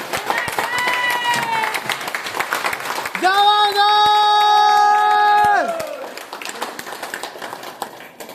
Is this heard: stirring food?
no